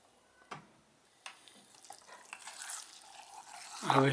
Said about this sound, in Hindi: अब हिला के मिक्स कर रहे हैं।